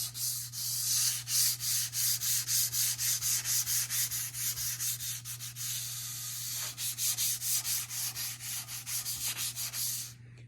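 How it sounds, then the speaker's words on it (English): Steady back-and-forth rasping of 600-grit sandpaper lightly sanding a wooden coffee table, a regular rhythm of strokes close up, with no voices. "I'm going to do a very light sanding on this"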